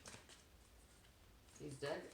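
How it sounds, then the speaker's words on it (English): Soft papery flutter of tarot cards, which stick to each other, being shuffled, quiet and close, with a brief burst of riffling near the end. "This deck is really hard to shuffle. The cards like stick to each other."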